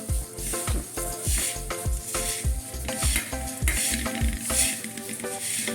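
Dry mukhwas mixture of dried amla, turmeric and ginger being stirred and tossed in a pan, giving a steady run of close, rhythmic scraping and rattling strokes with no talk.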